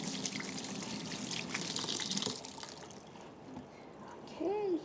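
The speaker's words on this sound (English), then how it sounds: "you need to rinse the rice until you look like you see like the rice it look bright and the smell is gone" Water runs and splashes as sticky rice is rinsed in a kitchen, a steady trickling wash close by that softens toward the end, with a voice talking over part of it.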